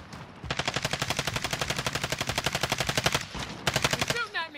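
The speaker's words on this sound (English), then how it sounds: "He's shooting at me." Video game gunfire in a squad battle, a long run of rapid automatic shots in a fast even rhythm, then a brief pause and one more burst, loud and close.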